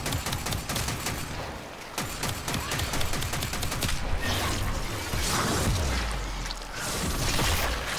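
Rapid bursts of gunfire from the Warframe video game, dense volleys of shots over whooshing and mechanical clatter, loud and continuous throughout.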